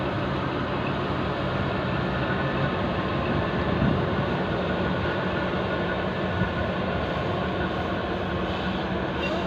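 Locomotive C128 rolling into the Lampang depot in Thailand, hauling express train 52 with JR West sleeper cars, a loud continuous rumble of engine and wheels on rail with no talk.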